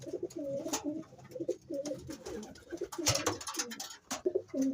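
Pigeons cooing in repeated soft, throaty phrases, close by, with light rustling and faint background noise between the calls.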